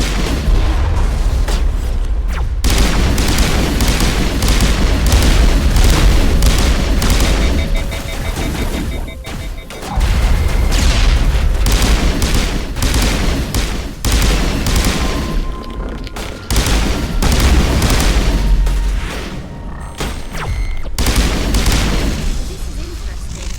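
Continuous loud gunfire and booming explosions from a Mass Effect battle go on almost without pause, with short dips between volleys and voices speaking over the action.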